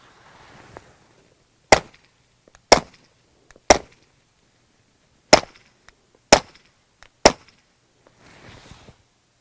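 Rifle fired through a Liberty Mystic X suppressor at an outdoor range, six sharp, fairly loud cracks spaced about a second apart, with quiet gaps and faint distant noise between them.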